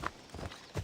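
A horse trots in Assassin's Creed Odyssey, its hooves giving a few quick, close clip-clop beats in a short burst.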